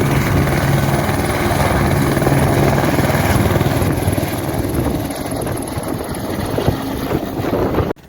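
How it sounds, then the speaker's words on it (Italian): Helicopters ferrying heavy material to a high-altitude archaeological dig site near the Stelvio, a loud, close, continuous rotor and engine roar that holds steady throughout and cuts off sharply at the end. "Qui vediamo ad esempio gli elicotteri portare il materiale più pesante sul cantiere"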